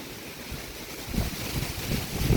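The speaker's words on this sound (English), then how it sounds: "it's super windy in the neighborhood today." Strong wind gusting through a residential neighborhood outdoors, a steady roaring rush with heavier buffeting gusts and microphone rumble building toward the end, loud and close.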